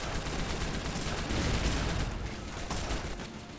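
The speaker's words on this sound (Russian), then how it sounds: "Что-то куда-то стреляют." Dense, continuous battlefield gunfire in the war game В тылу врага 2 (Men of War 2), a loud unbroken rattle of overlapping shots and bursts that swells in the middle and eases slightly toward the end.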